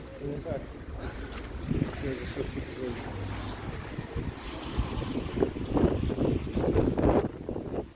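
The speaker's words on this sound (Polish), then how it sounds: "No to taka wietrzna pogoda, ale tu w całej Polsce tak wieje." Strong wind buffets the microphone in loud, gusty bursts, with muffled voices talking underneath, outdoors in Karpacz, Poland.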